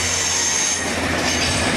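A hired-in HST diesel train rolls into platform 9 at York station, a loud steady rumble of wheels and engines with faint squealing from the rails, heard close and without talk.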